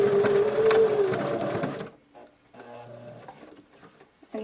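A sewing machine backstitches over elastic on a SoftBums cloth diaper, its fast whirring stitching running for about two seconds before stopping, followed by quieter handling and faint shuffling.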